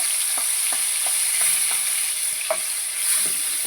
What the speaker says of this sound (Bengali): দিয়ে এটাকে ভালো করে লাল লাল করে ভেজে নেবো